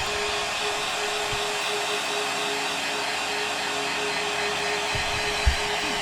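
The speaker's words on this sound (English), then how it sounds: "Just warm up the skin where the wrinkles are with your heat gun or hairdryer." A heat gun or hairdryer blows steadily, a constant close whooshing roar that runs unbroken throughout, warming a vinyl skin on an Apple Magic Mouse, with a couple of faint clicks and taps beneath.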